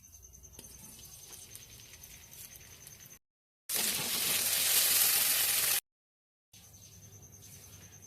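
Paneer pieces fry in a hot pan, with a loud, bright oil sizzle in the middle, set between quieter stretches of faint crackling and two brief silent gaps.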